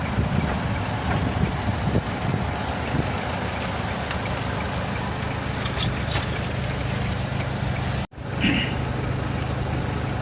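Steady low engine rumble from vehicles idling in a traffic jam on a road under repair, dense and continuous, with a brief cut near the end before the hum resumes.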